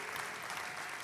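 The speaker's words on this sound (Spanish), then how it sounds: "Vamos, aplauda a ese Dios." Congregation applauding during a church service, steady dense clapping filling the space throughout with no breaks.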